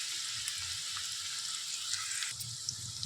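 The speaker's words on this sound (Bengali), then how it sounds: "দিয়ে নিয়ে ভালোভাবে এবার এগুলোকে ভেজে নেবো যতক্ষণ না এর মধ্যে তেল বের হয়ে আসছে" Chopped onion and tomato frying in oil with garam masala for chicken do pyaza, a steady close sizzle with faint stirring underneath and no talk.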